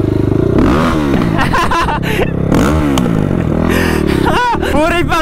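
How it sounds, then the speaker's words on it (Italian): Motorcycle engines at a crowded motorcycle rally, rumbling and revving loudly up close, with rising and falling engine pitches and some clatter, while voices talk over them. "guarda quante cazzo di moto ci sono!"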